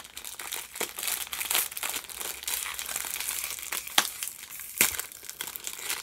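Plastic wrapping on a Jos Louis snack cake crinkling and crackling as it is opened by hand, close and continuous, with a few sharper crackles.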